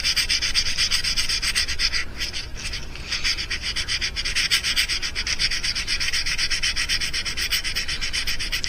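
Close, steady sanding and rubbing on a handmade mouse fishing lure, smoothing its Dremel-carved body with continuous abrasive strokes that keep an even scratchy rhythm, with a brief dip partway through and no talk.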